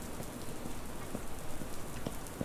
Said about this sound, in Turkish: Yağmur yağıyor. Yağmur yağması çok güzel.